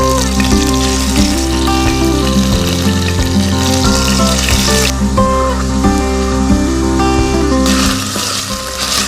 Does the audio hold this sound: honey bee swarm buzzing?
no